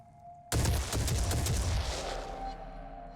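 A burst of enemy gunfire in the tactical game Phoenix Point: a sudden loud volley of shots cracking together, followed by a rumbling decay, with no voices over it.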